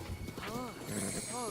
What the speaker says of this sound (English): I feel like it's been a while since I've ridden the horse.